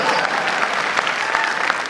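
Audience clapping at a Hindi kavi sammelan comedy poetry recitation, steady dense applause from a large crowd filling the whole moment without a break.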